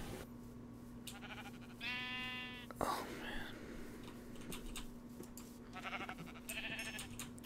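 Sheep in a Minecraft UHC match give two short, nasal bleats, one early and one near the end, over a steady electronic hum and light keyboard clicking.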